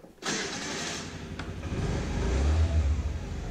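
Scooter engine starting just after a new ignition lock switch is fitted: a short cranking burst, then the motor catching and idling steadily before revving up louder toward the end.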